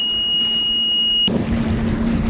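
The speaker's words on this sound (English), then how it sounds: "I don't know if you can hear me or not with the wind in the engine" A personal watercraft, a Sea-Doo RXT, putters slowly back to the dock with a steady engine drone buried under heavy wind buffeting. Partway through, a high whine cuts out and the rumble grows rougher and louder.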